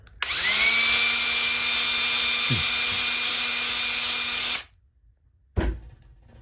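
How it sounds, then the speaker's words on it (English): A power drill whirs steadily at high speed for about four seconds, close and loud, then stops; a short knock follows after a pause. "I'm going to put my drill in there and do the exact same thing"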